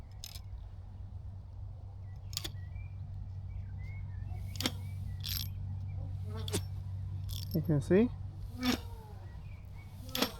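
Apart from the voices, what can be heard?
fast buzz of spinning DIY flint and steel fire starter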